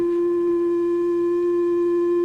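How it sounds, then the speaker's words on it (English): A steady synthesizer oscillator triangle wave tone holds one pitch throughout, slightly brighter than a pure tone, constant in loudness with no other sounds. "Another oscillator produces a triangular wave."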